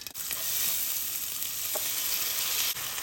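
Basmati rice is added to hot oil with cumin seeds, producing a loud, continuous close-up sizzle that holds steady for a few seconds, with no voices.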